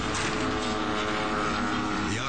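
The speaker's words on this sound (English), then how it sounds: "An airshow takes a frightening turn when an ultralight plane flies off without its pilot." Buzzing propeller engine of an ultralight plane in flight at an airshow, a steady loud drone with layered harmonics holding constant for a couple of seconds.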